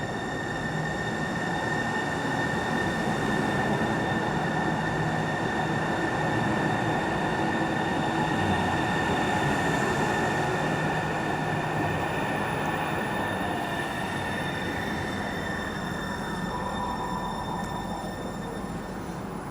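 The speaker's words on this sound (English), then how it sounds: "There is the train." An East Link light rail train running steadily toward Bellevue, with a continuous rumble of wheels on track and high, sustained squealing tones throughout.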